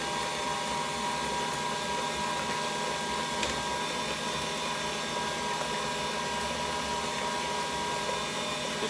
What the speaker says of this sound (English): So we start to mix the sweet potatoes in the mixer.